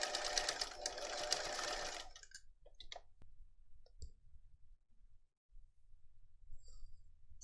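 A sewing machine runs fast and steadily for about two seconds while stitching bias-cut binding onto a messenger bag flap, then stops, leaving a few faint clicks and handling noises in a quiet room.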